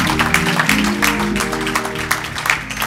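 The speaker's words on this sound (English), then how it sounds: "Let's give God a hand clap of praise." A church congregation claps steadily, dense overlapping hand claps with voices and a low murmur underneath.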